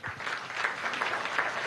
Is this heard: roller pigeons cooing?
no